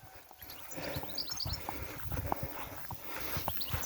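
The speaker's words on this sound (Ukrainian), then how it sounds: "Кінь стоїть застояний і..." A draft stallion for sale shifts and steps around, hooves clopping irregularly on the ground at close range amid faint outdoor background noise.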